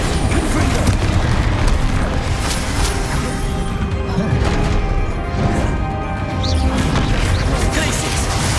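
Bombarda and Confringo explosion spells go off in the Hogwarts Legacy video game, producing loud, continuous booming blasts and crashing debris layered over busy game effects throughout.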